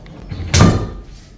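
A wooden attic hatch lid in an abandoned house shoved and scraped open in one dull thud with a brief rumbling drag, close and fairly loud in a quiet space.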